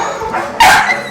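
A beagle at a pet adoption setting lets out a single sharp, close bark after some soft whimpering, loud and brief against a quiet background.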